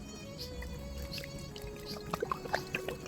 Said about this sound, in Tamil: தண்ணி அதுக்கு மேலே மெதுவாக அப்படி ஊற்றுவோம்.